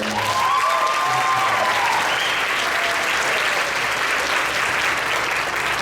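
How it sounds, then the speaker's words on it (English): Audience applause for a sixth grade beginning band, a loud continuous wash of many people clapping that holds steady throughout, with faint crowd voices underneath. "Round of applause for them."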